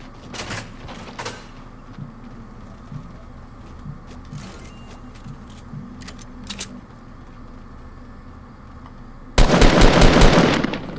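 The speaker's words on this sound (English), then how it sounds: "Who's shooting? Me." Automatic gunfire in the Fortnite battle royale game bursts out loud and dense near the end, after scattered shorter shots and clicks over a steady background hum.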